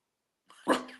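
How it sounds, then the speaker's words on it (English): A dog gives a single short, loud bark, close by and alone, after a moment of silence, at home in the morning. "You don't even know what you're barking at."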